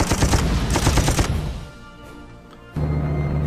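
Rapid bursts of gunfire from combat units in the wartime strategy game Panzer Corps: Allied Corps, in two dense volleys, then a short lull before another harsh burst starts at the end.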